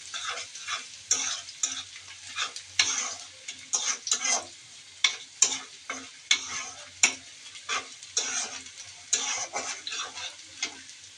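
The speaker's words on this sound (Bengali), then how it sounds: "এই তো মাছটাই যে কষিয়ে নিচ্ছি।" Fish that was fried with onions is stir-fried in a pan, with a continuous close sizzle and a steady rhythm of spatula scrapes and taps against the metal.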